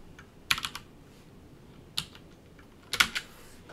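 A few sparse keystrokes on a compact HHKB keyboard come in three short clicky bursts, quiet and close, with pauses between them and no talking.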